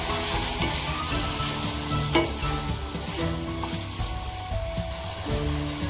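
Pumpkin and fish curry frying in a pan, a steady close sizzle with occasional stirring clinks and scrapes running throughout, no voices.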